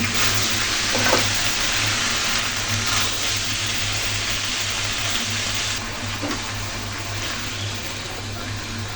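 Vegetables sizzle and fry steadily with spices in a pan for a fish curry with broccoli, potato and peas, giving a continuous close hiss with occasional stirring scrapes.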